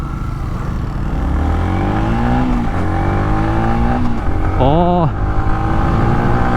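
A Yamaha MT-15 motorcycle with an Akrapovic full exhaust system idles and revs with a deep, throbbing engine note, rising and falling, with a quick sharp blip of the throttle near the end, loud and close.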